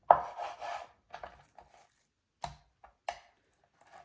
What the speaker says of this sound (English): So I'm gonna cut it in some thin strips.